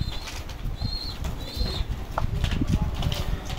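A Janssen Merckx line racing pigeon flapping its wings in quick close bursts over a low, steady background, with faint soft cooing notes.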